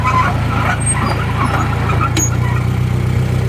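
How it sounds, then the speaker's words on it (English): A JI Case 310D crawler runs through its transmission gears, a loud steady diesel rumble with pulsing low throb and a brief squeal, no talking. "Running through the gears here. We are in first."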